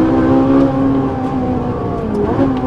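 Ferrari 458 Italia V8 engine revving, heard close and loud as a sustained, harmonically rich engine note that shifts slightly in pitch, with no talking.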